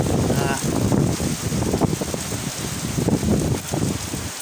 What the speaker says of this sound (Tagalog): Palakas ang ulan, tapos hina, palakas yung hangin, pagbugso-bugso, malakas, humina.